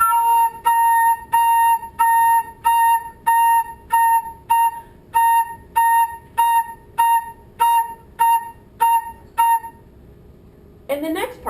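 An instrument plays eighth-note rhythm line A: steady, evenly spaced short tones on one pitch, two per beat, repeated about sixteen times close and clear, then a brief pause before a faint sweep at the end.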